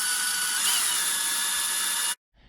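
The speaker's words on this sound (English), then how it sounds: "I'm drilling out the ends of the center pieces ever so slightly just so that I can get a screw to thread in" A power drill whines steadily and up close for about two seconds while drilling out the ends of 3D printed plastic stand parts, then stops abruptly and a brief faint rustle follows.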